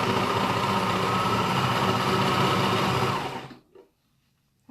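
A sewing machine stitching fabric pieces together, running at a steady loud whirring pace for about three seconds, then winding down and stopping into near silence.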